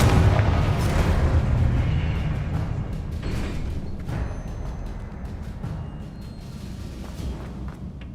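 Confringo fire spell exploding in the video game Hogwarts Legacy, a loud rumbling blast at the start that rolls into a long, slowly fading boom, with crackly bursts on top.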